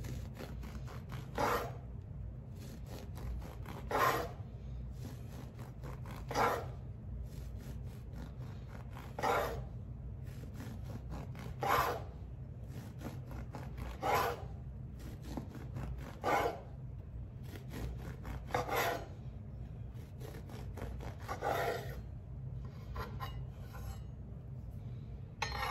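A knife saws into a loaf of carnivore whole-egg bread, giving soft, regular rasping strokes roughly every two to three seconds, close and fairly quiet over a low steady background.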